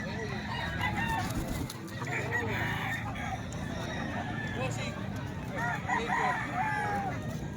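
A rooster crows amid a busy poultry market, the bird's call rising over a man's continuous sales patter and general crowd bustle, moderately close and partly masked by talk.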